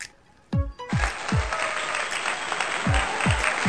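Applause starts abruptly after a short pause and carries on as a dense, steady wash of many clapping hands, loud and close. Low swooping tones sweep in behind it at regular intervals, and nobody speaks.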